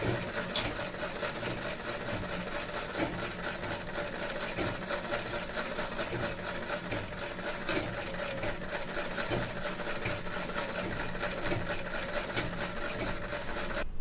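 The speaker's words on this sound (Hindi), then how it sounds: "सिलाई शुरू कर रही हूँ।" An electric sewing machine stitches a curved seam on fabric in a practice lesson, a steady, even mechanical whir and rapid clatter running continuously and close.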